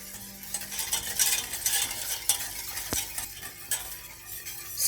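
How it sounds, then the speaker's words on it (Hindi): Milk being stirred into a lasagna white sauce in a pan, soft continuous scraping and swishing of a spoon with a gentle sizzle underneath and one sharp knock midway. "अब इसमें दूध डाल देंगे। अच्छे से मिक्स करते जाएंगे ताकि इसमें गुठलियां ना बने।"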